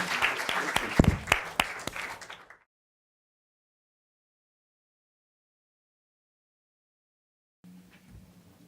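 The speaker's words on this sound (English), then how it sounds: "Let's give them a round of applause." Audience applause for student presenters at an academy project presentation, a short burst of crowd clapping lasting about two and a half seconds before cutting to silence, followed by faint room noise.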